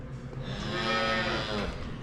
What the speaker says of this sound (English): We're feeding calves.